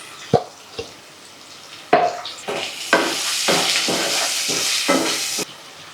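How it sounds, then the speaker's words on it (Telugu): Onions and green chillies fry with salt in a pan, with a few sharp spoon scrapes and clacks at first, then a steady close sizzle broken by rhythmic stirring strokes, no voices. "ఉల్లిపాయ పచ్చిమిరపకాయలు వేసుకున్నాం కదా, వేగుద్ది"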